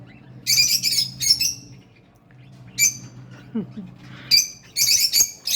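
Pet birds in a home aviary let out harsh, bursty squawks and chirps in clusters while fighting, close and loud between brief quiet gaps.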